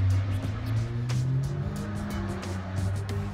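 Loud cars pass on a street in Japan, a steady low engine rumble swelling and easing with a few sharper bursts, close and continuous with no talk.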